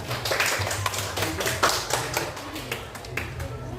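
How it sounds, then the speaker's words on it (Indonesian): Classmates clap for a student in a school lesson, a brief burst of uneven, fairly sparse hand claps close by in a room, with a low murmur of voices beneath. "Tepuk tangan untuk Lydia."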